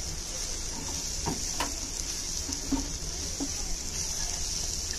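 Tomato paste and ground spices stir-fry in a pan with a steady, even sizzle, broken by a few soft scraping clicks of stirring throughout, moderately close and without speech.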